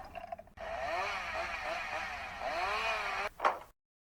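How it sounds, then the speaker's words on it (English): A small motorized buzz from a toy chainsaw on a NECA Ultimate Stripe Gremlins figure revs steadily with wavering pitch for about three seconds, close and fairly loud, then cuts off with a brief clatter. "He's got a goddamn chainsaw."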